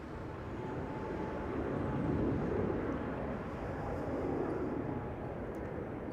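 An Emirates airliner departing Schiphol airport on a flight to Dubai, heard as a steady low jet roar that swells slightly mid-way and holds at a moderate distance, with no voices.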